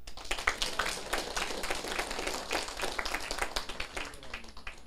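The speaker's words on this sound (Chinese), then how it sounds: "你们拍手哟" An audience claps at a lecture hall closing session, a dense, steady patter of many hands that carries on throughout without a break.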